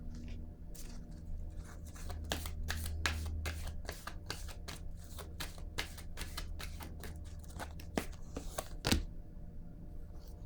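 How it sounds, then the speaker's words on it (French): Cards being laid down one after another on a table, a steady run of soft, crisp taps and slaps close by with brief pauses between them, and no talking. "Je vais déposer une autre carte ici."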